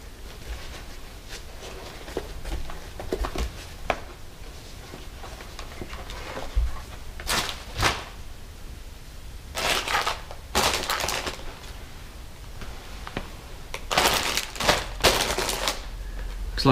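Plastic snaps popping loose from the padding of a Shoei Neotec modular motorcycle helmet, heard as a handful of sharp, close clicks in small clusters over low handling noise, with no talking.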